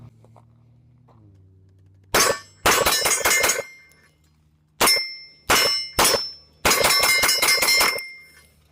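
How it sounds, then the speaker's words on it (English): A Sig P211 pistol fitted with a metal recoil plug fires in sharp bursts: a pair of lone shots, then quick strings of several reports. Each shot rings out crisp and loud with a metallic clang and brief ring-off between volleys. "First shots with a metal recoil plug."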